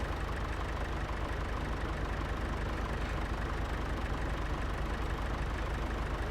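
A tractor engine idles in the video game Farming Simulator 25, a steady, dense, unbroken rumble that stays close and even throughout, with no talk.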